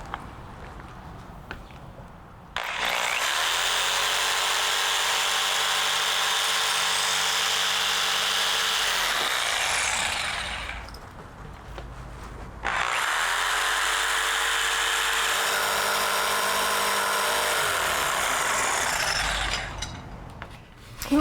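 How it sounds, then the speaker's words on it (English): A jigsaw cuts through a clamped cedar board in two long, loud, close buzzing runs of roughly eight seconds each, separated by a short pause, with the blade's steady rasping drone dominating. "Since I'm using a jigsaw to cut this board out, I'm going to go ahead and clamp it down to help hold it in place."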